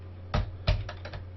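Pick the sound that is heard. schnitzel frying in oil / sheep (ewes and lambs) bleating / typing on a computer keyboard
typing on a computer keyboard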